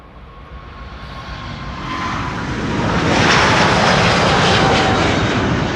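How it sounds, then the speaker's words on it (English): Airbus A350 jet airliner passing at Amsterdam Schiphol Airport, its engine roar swelling steadily from moderate to loud and holding as a broad, continuous rush with no voices. "Perfect timing if you were just in time to see the A350"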